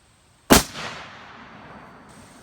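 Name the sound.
Savage Axis .270 rifle shots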